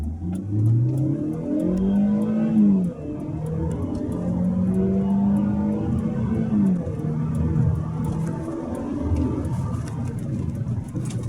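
An Audi A4 with the 2.0 TFSI engine, fitted with an LPG conversion but running on petrol, accelerates hard through the gears, its engine note rising in steady pulls with brief dips at each shift, loud and close with no talking.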